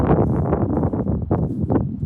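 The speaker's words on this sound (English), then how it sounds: "it's pretty windy up top here" Steady wind buffets the microphone on a hilltop cemetery in Independence, Missouri, a dense low rumble with gusty swells throughout and no clear voices.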